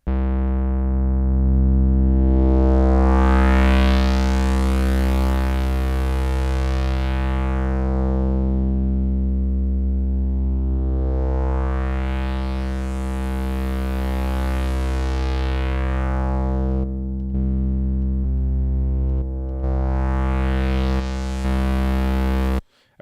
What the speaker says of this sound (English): that's Bitwig's own distortion